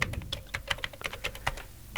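Quick, light keystrokes on a computer keyboard, around a dozen soft clicks in an uneven rhythm, close and quiet with no other sound.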